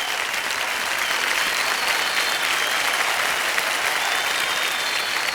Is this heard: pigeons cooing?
no